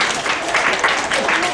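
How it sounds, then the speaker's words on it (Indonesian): Seminar audience applause, a short burst of clapping from a group in a room, mixed with a voice. "Tepuk tangan dulu buat kita semua."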